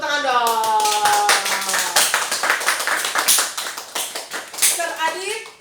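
Hands clap in uneven, fairly close bursts while voices call out and talk over them at a company gathering, with a woman's speech audible through the clapping.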